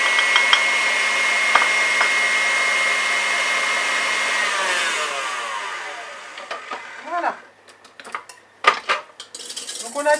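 An electric mixer whirs steadily while whipping egg whites with sugar for an almond sponge cake, the beaters rattling against the bowl, then it winds down and stops, followed by clinks of utensils and bowl handling.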